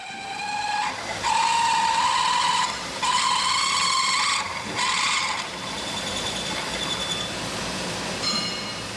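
A metal lathe drilling through a part, a loud high tonal squeal that rises in three long steady bursts and then eases to a fainter whine, with no talk.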